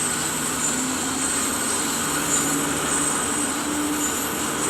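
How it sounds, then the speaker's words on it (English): Steady rail rumble of a freight train slowing under electric braking in Train Sim World, with faint brake squeal lines appearing intermittently over a continuous wheel and motor drone, no voices. "in 200 meters we have to make the train stop and we are applying the electric brakes"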